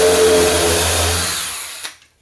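A power drill whirs steadily while countersinking a screw hole in wood shelving, then winds down, ending in a small knock and silence.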